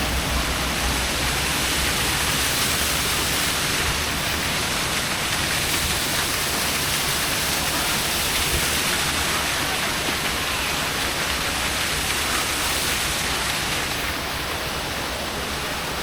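A waterfall roars in a steady, dense, unbroken rush of falling water across the whole span, loud and close with no voices.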